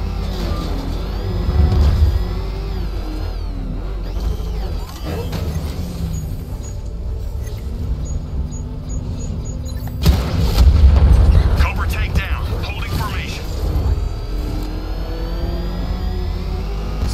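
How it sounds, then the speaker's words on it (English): Cobra tanks firing cannon rounds in Batman: Arkham Knight, heavy booming blasts with rumbling engine noise, one big burst standing out midway, under game dialogue. "Two Cobra tanks with him."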